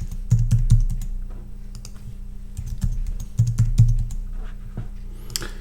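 Rapid clicking keystrokes on a computer keyboard as a password is typed, arriving in short bursts with brief pauses and a louder clack near the end, close and clear with no talking.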